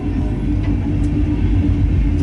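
A corn freight train pulled by CSX locomotives departs in Fremont, Nebraska, with a loud, steady, deep rumble of engines and rolling cars close by.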